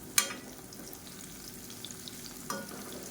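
Raw banana slices fry in oil, making a faint, steady low sizzle with two sharp clicks or spatters standing out above it.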